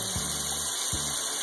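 Pale dry sherry poured into a cooking pan of beans: a short, close, continuous trickle of liquid with two brief surges, and no voices.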